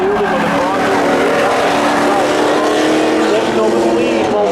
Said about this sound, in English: 2 good cars, jump up on the gas, green flag is out, down into 1 they go